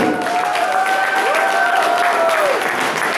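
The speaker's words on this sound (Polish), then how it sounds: "proszę o wielkie brawa dla Karoliny Jatury" Wedding guests give a big round of applause for the bride as the first dance begins, a dense, steady wash of many hands clapping throughout, with a sustained musical tone or voice gliding above it.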